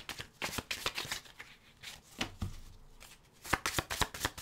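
Tarot cards shuffled by hand before a single card is drawn, heard as close, crisp riffling bursts separated by short pauses, soft and with nobody speaking.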